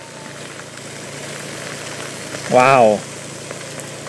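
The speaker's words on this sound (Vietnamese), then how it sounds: "Vừa mới ra khỏi nhà luôn là em gặp ngay cái cơn mưa này." Heavy rain pouring onto a flooding street on Nguyen Binh, Nha Be, in suburban Saigon: a constant, dense hiss with a low hum underneath, broken once by a short spoken exclamation.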